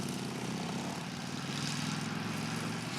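A small moped engine drones steadily as it climbs an Alpine mountain pass on the Stella Alpina route, a continuous buzzing hum at moderate distance with no talk.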